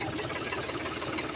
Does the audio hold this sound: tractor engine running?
yes